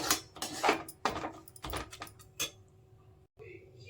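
Kitchen clatter as a pan is set down during cooking: several close, sharp knocks and scrapes of metal cookware on a surface, coming in quick uneven bursts with no talking.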